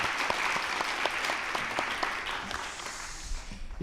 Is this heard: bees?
no